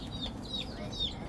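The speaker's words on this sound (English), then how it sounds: "So here we have some cute chicks" Cute chicks cheep nearby in a school pet display, three thin, high chirps spaced evenly over a low background murmur.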